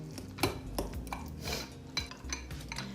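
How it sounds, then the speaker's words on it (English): A fork mashes ripe avocado for fresh guacamole, with soft squelching and repeated scraping against a bowl in an uneven rhythm, close and moderately quiet, and no one talking. "Sometimes a fork works best to kind of get that avocado all nice and mashed."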